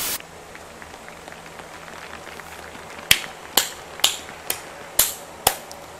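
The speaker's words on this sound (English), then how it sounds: "I had to clap too, because everyone else was clapping." Six sharp, evenly spaced claps ring out about half a second apart in a Final Fantasy IX game scene, coming after a stretch of quiet, low background hum.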